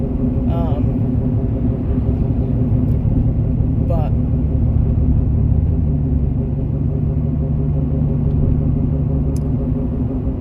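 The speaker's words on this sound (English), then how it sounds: "my tires are chapped on the truck. That's why you can hear that noise." Worn, uneven tires on a pickup truck drone as a steady, loud low rumble while driving on the road, continuous throughout with a voice briefly speaking over it.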